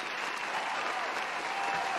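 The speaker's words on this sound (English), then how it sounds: "And the crowd goes wild." Dense, steady applause from a crowd at a virtual fan-convention panel, filling the whole stretch at even loudness with no break and no talking over it.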